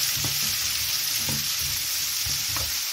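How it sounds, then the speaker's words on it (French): Bell peppers, onions and garlic sauté in olive oil in a pan for a chicken and shrimp paella, giving a steady close sizzle with a few stirring scrapes and no talk. "Et on va faire sauter nos poivrons,"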